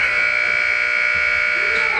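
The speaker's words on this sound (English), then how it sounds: "It was on its way when the buzzer went off." A shot clock buzzer sounds at a JV boys basketball game, a loud, sustained electronic tone that holds steady for a couple of seconds over faint gym noise.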